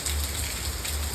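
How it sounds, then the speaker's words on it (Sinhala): Heavy rain pours steadily outside, a dense continuous hiss of drops on surfaces with a low rumble underneath, loud and unbroken throughout. "හොඳටම වහිනවා."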